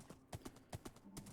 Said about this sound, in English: We'll take our horse.